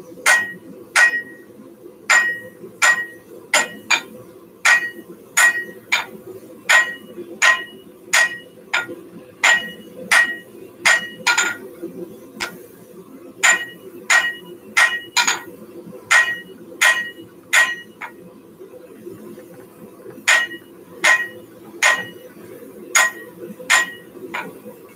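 Hammer forging hot metal for a fireplace tool rack: sharp, ringing hammer strikes on an anvil in steady, evenly spaced runs, loud and close, broken by short pauses over a low shop hum.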